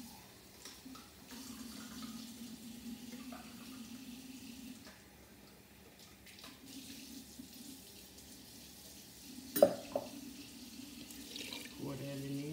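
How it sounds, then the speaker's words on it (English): A kitchen tap runs water into a pot, producing a steady, fairly quiet splashing that holds for several seconds before a brief clunk and a change in pitch as the pot fills. "what I'm going to do is put some water in this thing here."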